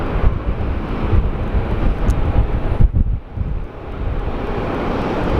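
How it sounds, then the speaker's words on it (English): Air New Zealand Boeing 777 at windy Sydney Airport, a broad low jet roar mixed with heavy wind buffeting on the microphone, fairly loud and continuous with a brief dip partway through. "And Air New Zealand Boeing 777."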